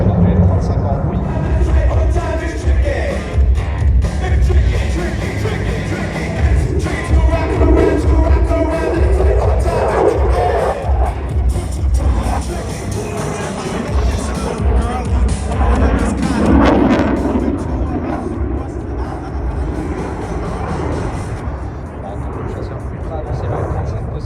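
An F-35 fighter jet maneuvering at the Paris airshow gives a loud, continuous engine roar that swells and shifts as it banks through turns, while a voice talks over the noise throughout.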